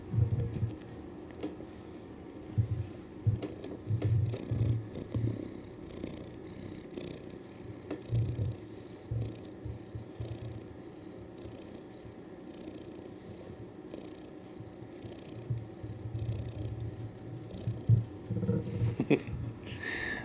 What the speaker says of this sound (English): just distracted by a cat purring on my lap